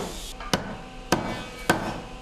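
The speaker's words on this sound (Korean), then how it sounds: "나무를 재단하고 사포질을 하고 또 망치질을 하느라 소음으로 가득한 공장" Hammering on wood in a traditional joinery furniture workshop, four sharp, evenly spaced blows over steady workshop noise, with no talk.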